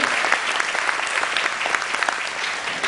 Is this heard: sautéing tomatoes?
no